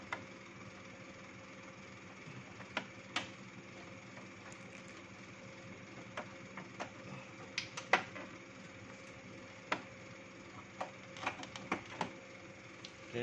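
An Epson L1300 inkjet printer runs a test print: a steady mechanical hum with a tonal whine, broken by scattered clicks and brief whirring bursts of the print head moving, heard alone at close range.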